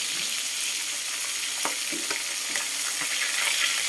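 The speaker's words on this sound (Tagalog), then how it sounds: "Medyo tumatawsik ang oil" Squid and galunggong fish fry in hot oil with a steady, loud sizzle, with scattered sharp pops of spattering oil on top.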